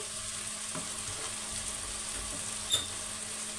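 Fenugreek leaves sautéing in a pan with onion-garlic masala, red chilli powder, coriander powder, turmeric and garam masala, a low continuous sizzle with one brief clink of a utensil near the end.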